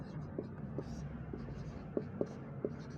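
Chalk or marker strokes on a classroom board during a physics lesson on electric charge, a series of short, sharp scratching taps spaced irregularly, close and moderately loud, with quiet room tone and faint background murmur.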